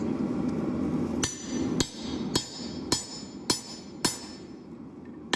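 A blacksmith drives a small drift through hot steel while forging a top cutting chisel from a truck spring, giving about seven sharp, evenly spaced hammer blows that ring out loud and close over a steady background roar.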